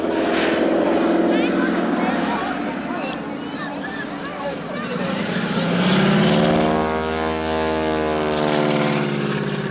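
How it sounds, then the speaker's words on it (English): A de Havilland Beaver propeller aircraft flies past at an airshow, its droning engine loud and steady, rising in pitch and then falling as it passes overhead, with people talking over it. "This particular aircraft, we're not done with the beaver yet, here he comes."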